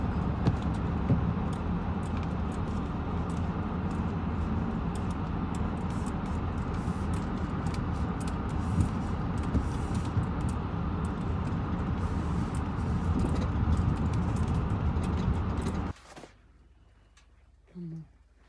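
A car drives through heavy snow with high beams on, a steady loud engine and road rumble lasting most of the time before cutting off abruptly into near silence with a faint voice.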